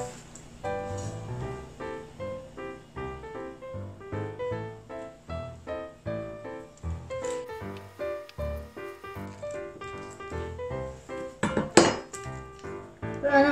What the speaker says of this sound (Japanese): チーズケーキがしっかり冷やされたのでカットしていきます。